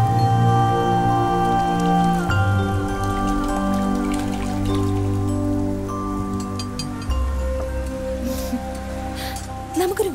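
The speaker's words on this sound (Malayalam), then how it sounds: "മഴ തോർന്നിട്ടില്ല." Steady rain falls outdoors in a Malayalam film scene, a dense continuous patter and splash of drops on surfaces, loud and close throughout with no voices.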